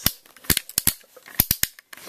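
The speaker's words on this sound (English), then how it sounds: "They're all noisy ratchet joints." Sharp plastic clicks from the ratchet joints of a Transformers Universe Darkwing toy figure, a quick irregular series of close, crisp snaps with brief gaps, no talking.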